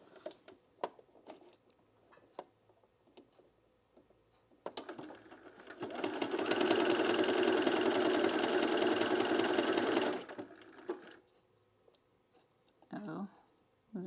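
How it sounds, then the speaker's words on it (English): Domestic sewing machine stitching a self-drafted blouse, a steady whirring run of about four seconds in the middle, with brief quieter clicks and handling before and after. "machine automatically does that little slow stitch at the end"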